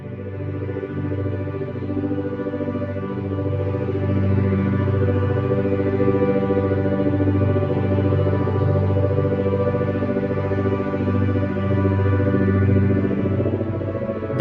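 Focus music plays steadily and alone, a sustained layered tonal bed with a constant low vibration humming underneath throughout.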